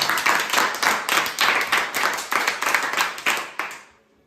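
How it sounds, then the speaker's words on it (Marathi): Applause from a group clapping for a child after a coin-arranging puzzle game, steady bursts of many hands for about four seconds before fading out. "राजनंदिनीसाठी एकदा टाळ्या वाजा"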